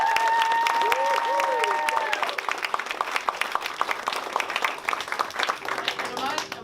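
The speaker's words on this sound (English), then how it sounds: "let's give them another round of applause." Dense audience applause at a senior capstone music recital, with scattered claps, loud at first and thinning slightly toward the end, with a faint tone gliding over it early on.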